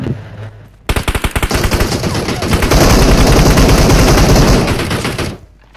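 Rapid automatic gunfire from the PUBG battle-royale shooter rattles out in a dense, loud burst lasting several seconds, with a quieter voice briefly heard at the start.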